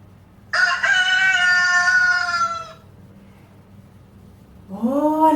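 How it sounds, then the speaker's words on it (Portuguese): A rooster lets out one long, loud, close cock-a-doodle-doo, then after a brief pause starts a second crow. "Então o galo cantou."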